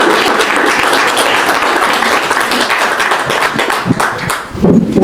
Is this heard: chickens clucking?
no